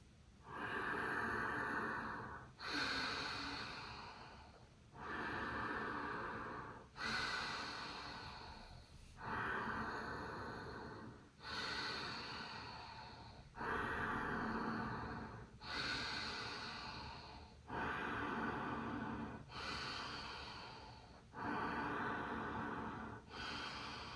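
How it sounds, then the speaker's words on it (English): Ujjayi pranayama breathing: slow, audible ocean-like breaths, about ten long inhale-exhale cycles in a steady rhythm, close and soft, with no talking. "listen to the sound of my breath, of that wave sound"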